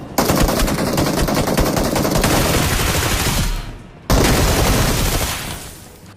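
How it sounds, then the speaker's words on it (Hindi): Rapid automatic gunfire in a close-range video game fight, two loud sustained bursts separated by a brief silence, the second tailing off. "पहले बंदे को तो बिक्सी भाई FPP स्विच करके जंप शॉट मारते हैं"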